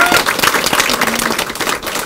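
A crowd at a political party's 2019 New Year gathering applauds, a dense, loud, continuous patter of many hands that holds steady through the moment.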